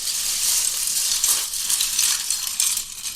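Lego bricks shaken in a container, producing a steady dense rattling clatter that swells in bursts, close and fairly loud.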